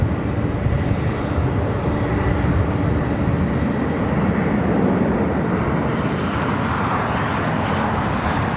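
Southwest airliner 4485 departing LAX, a loud, continuous jet engine roar with dense low rumble, swelling slightly and then easing as the aircraft moves off.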